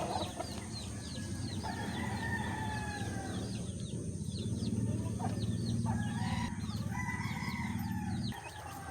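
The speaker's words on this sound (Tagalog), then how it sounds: "Ayan na po ang ating mga manok. Kumakain na." Chickens cluck and call steadily at close range while feeding, with a busy chorus of bird chatter and a rooster-like crow rising over the flock.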